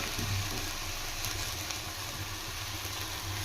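Drumstick leaves frying in hot tempering oil for munagaku fry: a dense, even sizzle and hiss throughout with steady crackling, close and alone, with no talking.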